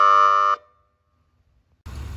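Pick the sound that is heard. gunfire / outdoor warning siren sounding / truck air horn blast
truck air horn blast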